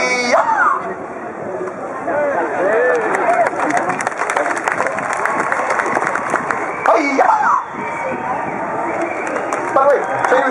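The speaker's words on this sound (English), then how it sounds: "can you hear the cheering down there?" A street crowd in Dublin cheers and shouts together in a long, sustained roar, close and loud, with a performer's voice calling out over the noise.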